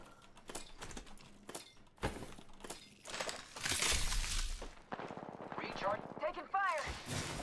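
Video game gunfire crackles in sharp, irregular bursts and single shots, mixed with shouted in-game voice callouts at moderate volume.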